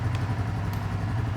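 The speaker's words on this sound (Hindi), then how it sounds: "आइडियल कंडीशन पर इंजन साउंड सुनो" A Royal Enfield Classic 350 motorcycle engine idles steadily up close, a low, even thumping rumble with a light mechanical clatter, and no voices over it.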